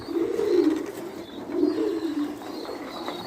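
Young pigeon squabs and adult pigeons coo in low, repeated rounded phrases, two main swells close to the microphone, with no talking.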